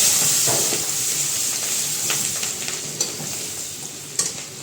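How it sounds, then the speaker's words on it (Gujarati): Asafoetida, ginger and chillies sizzling in hot oil for a Gujarati potato curry tempering, a loud, close, continuous hiss with occasional sharper spatters and stirring knocks, no voices. "હવે આપણે એમાં હિંગ નાખશું આદુ મરચા નાખશું"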